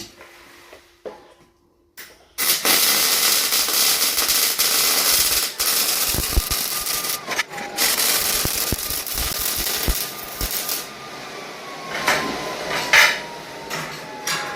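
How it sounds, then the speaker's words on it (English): A filler nozzle is welded onto a homemade smudge pot: after a quiet start with a few clicks, a harsh, crackling welding arc runs loud and continuous with brief breaks and metallic taps, close to the listener, with no speech. "we'll go ahead and get the filler nozzle welded in there"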